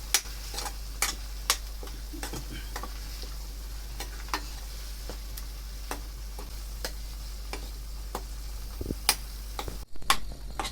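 Ginger-garlic paste sautés in a pan for chole, giving a soft, continuous sizzle broken by sharp, irregular clicks and scrapes of stirring.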